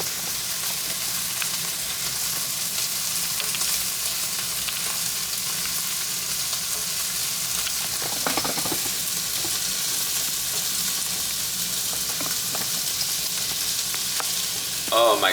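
Steak sizzling in a hot pan: a steady, soft frying hiss throughout, with a few louder crackles and spits near the middle and at the end.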